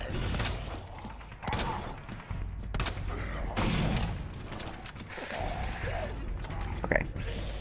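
Bursts of gunfire and mechanical clanks in Resident Evil 2, with dense rapid shots and thuds layered over the game's background noise.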